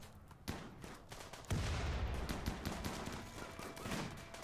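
Rapid gunfire from a Rimworld battle crackles in quick, overlapping bursts of shots. The firing is fairly faint overall and builds into a denser volley partway through.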